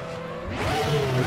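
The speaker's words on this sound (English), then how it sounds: "Set the ignition on, let's fire up the engine." Formula X-17 race car engine firing up in RaceRoom, a short starter whir rising into a loud, steady idle with a rough, throbbing tone.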